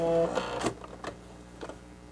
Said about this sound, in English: you're going to sew directly off the mask